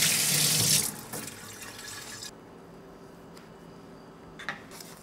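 A kitchen tap runs loudly into a sink for hand washing while making sausage bread, then is shut off, leaving faint drips and a quiet room.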